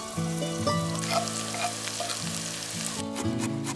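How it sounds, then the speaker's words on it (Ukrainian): Chopped onion in hot vegetable oil in a frying pan, a close, steady sizzle and crackle with a tonal hum running underneath; moderately loud and uninterrupted, with no speech. "пательні розігріваємо рослинну олію, в неї викладаємо цибулю"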